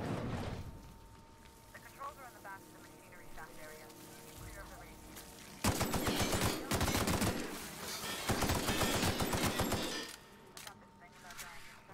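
Bursts of gunfire in The Outer Worlds crackle out in loud, dense volleys that come and go across the span, with quieter stretches of game sound and someone speaking in between.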